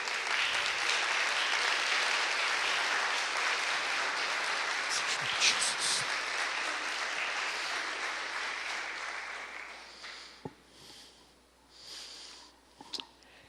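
Church audience clapping as a group applause during a preacher's sermon on a virtual tour of Israel, a dense steady roar of hands that gradually thins and fades out near the end.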